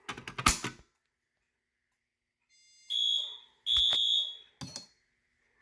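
A fire alarm system under test sounds after being re-alarmed: two sustained high electronic tones, then a shorter third blast, each separated by silence, following an opening burst of clattering mechanical clicks.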